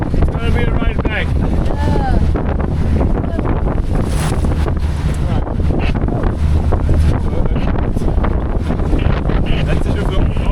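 A boat pounds through rough Antarctic waves, loud wind buffeting the microphone over rushing water and hull thuds throughout, with brief voices calling out early on.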